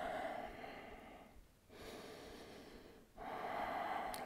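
Breath drawn and released during a vinyasa yoga flow, long audible exhalations through the nose with a short pause between them, close to the microphone with no talking.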